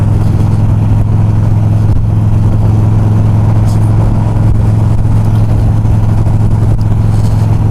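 A car moves along a Los Angeles freeway as it merges into the carpool lane. Steady, loud engine and road drone heard from inside the car, with no break and no talking.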